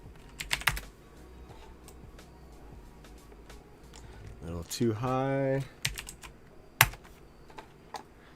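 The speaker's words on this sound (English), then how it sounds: "Sorry if my keyboard's super loud. It's one of those clicky keyboards." Clicky mechanical keyboard keys clatter in quick irregular bursts, sharp close clicks with a few harder smacks, while a person speaks briefly in the middle.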